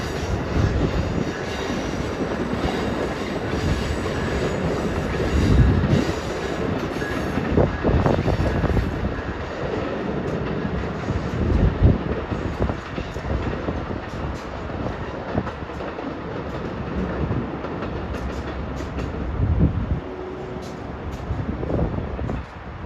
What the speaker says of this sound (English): There goes 92, the Silver Star from Tampa, Miami to New York.